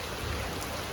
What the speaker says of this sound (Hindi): पूरा तेज बारिश हो रहा है, बहुत तेज बारिश हो रहा है गाइस।